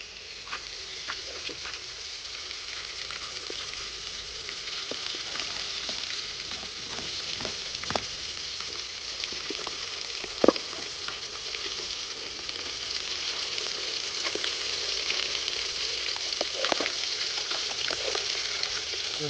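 Fish fries in hot oil in a village kitchen, a steady close sizzle with crackles and occasional sharp pops, continuing evenly for the whole stretch with no voices.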